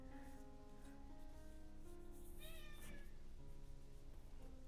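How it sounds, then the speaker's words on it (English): A pet cat meows indoors, faint and some distance away, with a few short calls and one longer rising meow, over a steady low background hum. "my cat Hermes is here to say hello to everybody"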